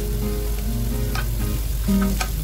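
Shrimp hitting a hot pan for egg fried rice, a bright steady sizzle with a few stirring scrapes, close and alone without talk.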